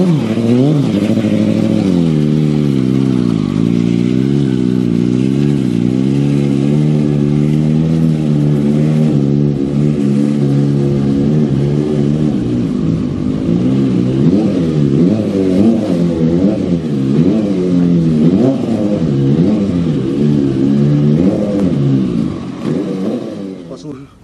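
Motorcycle engine revving hard and holding on the throttle through a wheelie stunt, with a steady loud drone rising and falling in pitch and people talking over it until it fades at the end.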